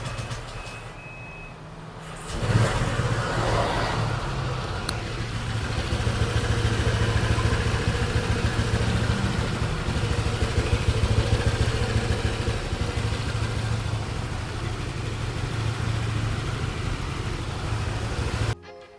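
A Honda Vario 150 scooter with a modified ported head and remapped tune idles, then revs up and holds a loud, raspy, steady engine drone at close range for most of the stretch, with a rattly mechanical edge.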